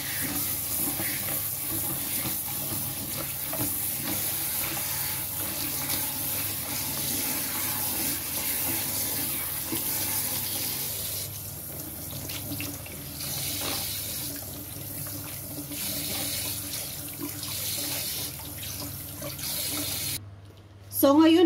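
Tap water runs steadily into a kitchen sink while fish is washed for a steamed fish dish, a continuous splashing wash that keeps an even level for about twenty seconds before it suddenly cuts off.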